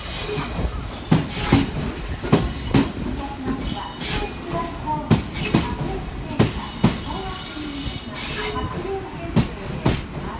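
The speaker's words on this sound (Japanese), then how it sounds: "進行方向より電車が到着しております" An electric train rolls into a station platform in Japan with rhythmic clickety-clack wheel thumps over rail joints and a faint squeal, steady and close, with brief voices in the background.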